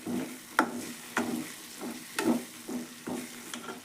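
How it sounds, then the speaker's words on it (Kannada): Thick gram flour curry (jhunka) with fresh coriander being stirred in a pan, a series of regular spoon scrapes and soft plops about every half second over a low simmer, close and moderately loud with no talking. "ಮ್ಯಾಲೆ ಕೊತ್ತಂಬರಿ ಹಾಕಿ ಕಲಸ್ತೀನಿ ನೋಡ್ರಿ"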